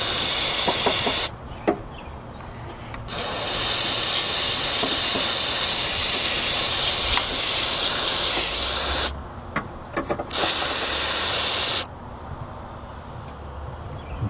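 An aerosol can of carburetor cleaner hisses loudly in several long bursts onto the front of a stalling 1990 Buick LeSabre engine, separated by quieter pauses with faint clicks and a steady background hum.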